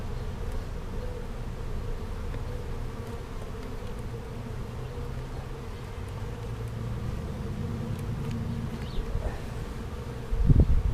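Honey bees fill the air at an open hive during an inspection of honey frames, humming in a steady dense drone close by, with a brief louder thump near the end.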